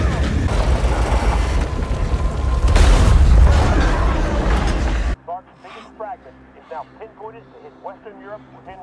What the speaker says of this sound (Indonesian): pesawat yang ditumpangi John pun terkena ledakan dari serpihan meteor